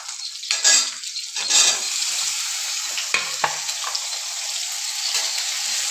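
Small onions and dried red chilies sauté in a hot pan, a steady bright sizzle running throughout, with a few scraping stirs and soft clinks of a spoon against the pan near the start.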